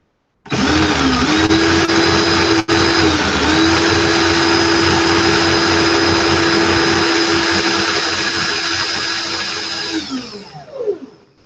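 A steady, loud motorized whine from a drill twisting Clapton vaping coil wire runs continuously for about ten seconds, then winds down and stops.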